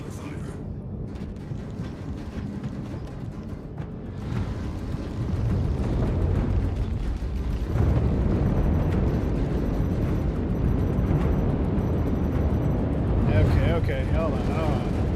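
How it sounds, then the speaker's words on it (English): Weapons fire striking a ship's shields in the space game Star Citizen, a dense, rumbling roar of blasts and bursts that swells louder midway and keeps going, with a voice speaking briefly over it. "Shields under fire."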